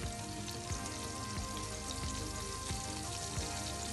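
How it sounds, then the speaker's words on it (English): Ingredients fry in a pan with black pepper powder added after browning to golden, giving a steady, dense sizzle and crackle that stays close and even throughout, with no talk over it. "we put the black pepper powder into the pan."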